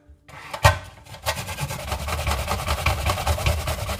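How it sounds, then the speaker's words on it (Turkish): A medium onion rubbed against the finest side of a grater, a quick run of close, rough rasping strokes. It opens with a sharp knock, then keeps a steady scraping rhythm. "Orta boy soğan. Fakat rendenin en ince tarafıyla."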